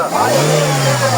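A car engine revs up and holds a steady mid-pitched drone at a Lahore Friday used car market, close and loud with no talk over it.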